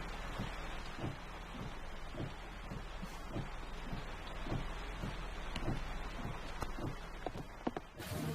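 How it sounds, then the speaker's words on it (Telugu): Heavy rain pours down steadily as a dense, even hiss, with a regular low thudding beat running beneath it and a brief louder knock near the end. "వర్షం ఆగేలా లేదు."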